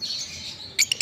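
A Green Personata lovebird gives a thin, high, drawn-out whistle followed by a quick pair of sharp chirps, close and fairly clear, all within about a second.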